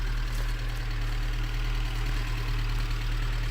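A Citroën C15 with the small X petrol engine idles, a steady low rumble with an even throb that holds close and constant throughout, with no talking.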